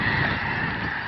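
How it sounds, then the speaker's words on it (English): A flock of snow geese honks in a brief, dense chorus of overlapping calls outdoors near the Steveston waterfront. "There's a huge flock of snow geese out there."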